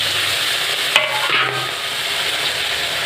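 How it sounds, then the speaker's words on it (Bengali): Slit green chillies stirred and fried in a pan, a continuous close sizzle and hiss with a brief spatula scrape partway through. "চিড়ে রাখা কাঁচা লঙ্কাটা একটু নেড়ে চেড়ে নিয়ে"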